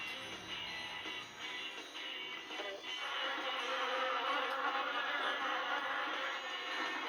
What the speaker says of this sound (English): that buzzing sound is really starting to get to me